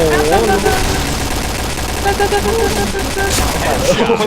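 Rapid gunfire from the shooter game Point Blank, dense bursts of automatic fire running throughout at close range with players talking over it.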